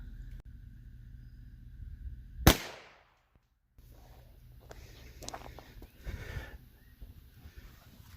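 A .22LR pistol firing a 30-grain round into ballistic gel, one sharp loud crack at about two and a half seconds with a short ring-off, surrounded by quiet outdoor handling and rustling noise.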